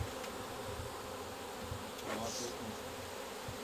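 Honeybees fanning at the entrance of a newly occupied hive hum in a dense, steady buzz, with individual bees occasionally passing close by.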